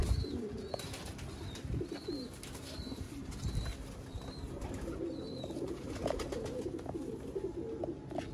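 Pigeons coo in a rooftop breeding loft, repeated soft rolling calls in a steady series over a busy background murmur, moderately near, with no speech.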